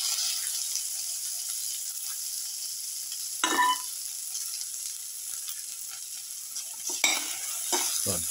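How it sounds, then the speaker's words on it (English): Tomato pieces stir-fried in a pan while lamb ribs, potatoes and cumin are cooked: a continuous soft sizzle with a few sharp scraping stirs of the utensil, close, no talking. "put in the tomato pieces,"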